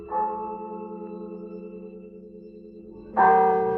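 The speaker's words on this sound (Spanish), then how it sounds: "Son unas campanas que anuncian que algo sobrenatural va a ocurrir." Church bells ring in a sustained, resonant toll, with a fresh strike near the end swelling louder over the lingering hum.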